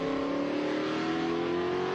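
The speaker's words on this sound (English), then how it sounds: "That's a 427 big block Chevy engine in that car, but built to the rules of Group 6." A race car with a 427 big block Chevy engine, built to Group 6 rules, holds a steady, loud, droning engine note that rises slightly in pitch as it accelerates, with no voices.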